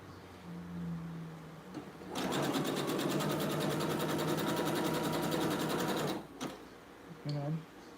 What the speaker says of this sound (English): This is what I use. The zigzag stitch.